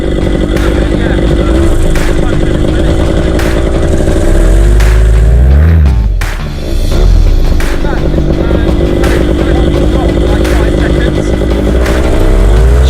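A loud paramotor engine warms up close by, idling with a steady buzzing drone, briefly revving up and dipping around the middle before settling back.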